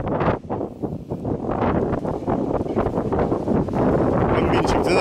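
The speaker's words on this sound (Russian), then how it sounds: "сразу вот как началось вот это все, бешеный ветер, волны" Strong, gusty wind buffets the microphone at a seashore in winter in Alanya, Turkey, with a continuous roaring rush over the whole stretch and possible surf beneath it.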